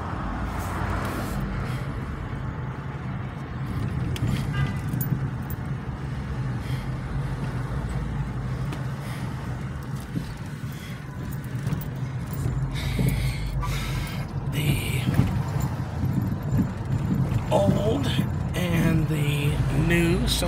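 Cars drive up behind someone on a town street, a steady low traffic rumble of engines and tyres under a voice, rising louder toward the end.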